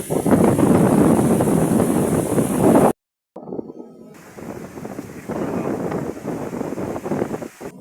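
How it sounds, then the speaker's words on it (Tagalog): Strong typhoon wind in a coastal town during Typhoon Pepito, a loud continuous roar buffeting the microphone, briefly cutting out, then returning as a steady gusting rush near the sea. "Grabe ang lakas ng hangin."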